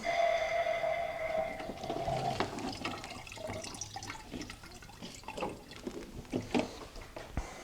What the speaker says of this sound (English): And then I can put that in the container and let that drain down.